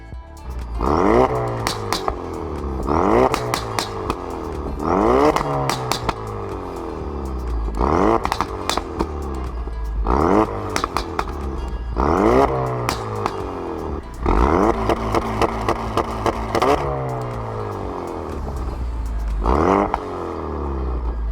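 Ford Focus RS fitted with a Mountune V2 catback exhaust, deep throaty revs rising and falling in about eight repeated bursts, loud and close with no talking.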